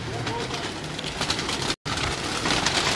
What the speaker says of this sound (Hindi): ये जी तमाम कबूतर आपके सामने, ये देखें भाई निकाले जा रहे हैं।